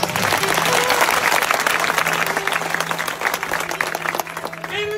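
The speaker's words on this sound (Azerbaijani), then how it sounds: "Bir alqış gəlsin" A crowd at a wedding gathering in Sabirabad, Azerbaijan, breaks into loud, sustained applause that thins slightly toward the end.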